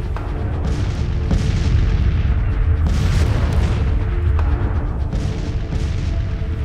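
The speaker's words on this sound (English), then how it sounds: "Bombarding." Artillery bombardment in Grand Tactician, a Civil War Union campaign, with heavy repeated booms and cannon blasts rolling one after another, loud and close, forming a continuous thunderous barrage.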